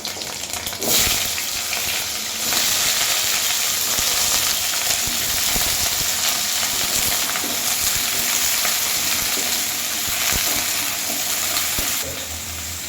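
Whole garam masala, cumin, crushed ginger and green chili hit hot oil in a pan for a potato-cauliflower curry, giving a loud, dense, continuous sizzle that crackles steadily throughout before easing slightly at the end.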